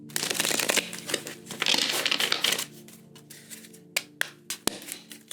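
Cards from a Cat Tarot deck are shuffled twice, giving dense riffling rustle in two bursts, then several sharp isolated taps and clicks as cards are squared and set down, close and fairly loud with no talk.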